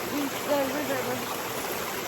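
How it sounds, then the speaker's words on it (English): A river flowing in the Jamaican countryside gives a steady, broad rush of moving water, continuous and fairly close, with a voice briefly audible over it. "So yeah guys, reach the river."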